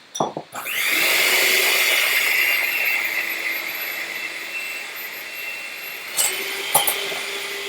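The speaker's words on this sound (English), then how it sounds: "we're going to whisk this in here on these guys until they're stiff peaks" Egg whites for waffles are whisked to stiff peaks, giving a steady, loud whirring motor drone that runs continuously at close range, with a couple of brief clacks near the end.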